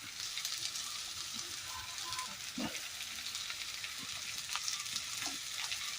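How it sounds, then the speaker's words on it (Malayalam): Tomatoes, curry leaves and softened onions sauté in a pan for a Kerala-style curry, giving a steady close sizzle with occasional soft scrapes of stirring throughout. "അതിലേക്ക് നമ്മൾ അരിഞ്ഞു വെച്ചിരിക്കുന്ന തക്കാളി കൂടെ ഇട്ട് വഴറ്റുകയാണ്"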